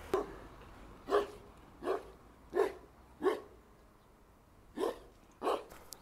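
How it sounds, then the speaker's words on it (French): A dog barks aggressively, with seven sharp, forceful barks in uneven bursts, fairly close, and no talking between them. "Je crois que c'est la première fois que je vois cette rage de chien."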